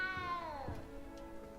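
A cat in the game Hogwarts Legacy lets out a single close, drawn-out meow that slides downward in pitch, followed by faint background rustle.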